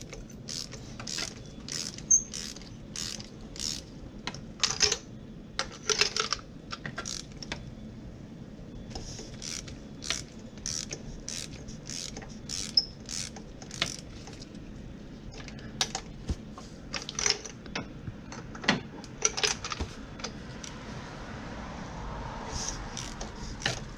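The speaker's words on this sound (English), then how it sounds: "You can either back it out all the way with the ratchet, or just go down the line and break each one free." A hand ratchet clicks in quick bursts while breaking the spark plugs loose, one after another, on a Ford Mustang Shelby GT350 engine. The sharp, close ticking comes in repeated runs with short pauses and no speech.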